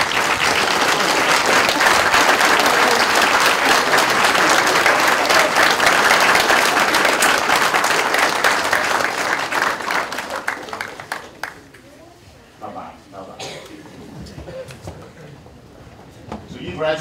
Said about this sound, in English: maybe give them a well-deserved round of applause